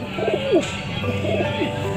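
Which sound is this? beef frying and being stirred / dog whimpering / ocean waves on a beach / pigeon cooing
pigeon cooing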